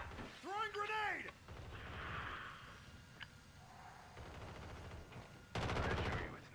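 Video game battle with a grenade and gunfire, a quick rattle of machine-gun shots followed by a dull blast and later another loud burst of firing, with voices talking throughout.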